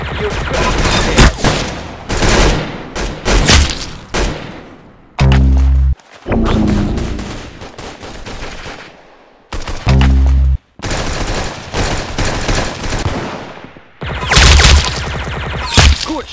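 Gunfire from the Roblox shooter game Arsenal rings out in dense, loud rapid-fire bursts and heavy single shots with thumping impacts, played back to back for the whole stretch.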